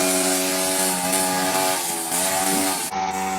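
A lawn mower engine runs loud and close with a steady buzzing drone whose pitch wavers slightly, then cuts out briefly near the end.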